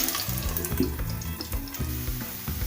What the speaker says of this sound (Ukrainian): Смажу так всі котлетки.